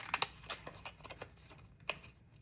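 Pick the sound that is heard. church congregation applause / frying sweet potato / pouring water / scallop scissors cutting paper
scallop scissors cutting paper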